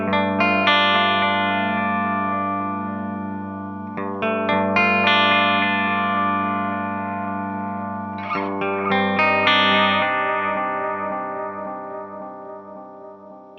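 A Nemesis delay pedal with its feedback raised into self-oscillation, producing a loud, sustained harmonic drone that swells and smears into fresh repeating layers around four and eight seconds, then slowly fades.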